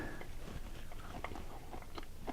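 Crunchy cooked Brussels sprouts, roasted with oil and salt, are bitten and chewed close up, giving a series of crisp crunches and soft mouth sounds with no talking.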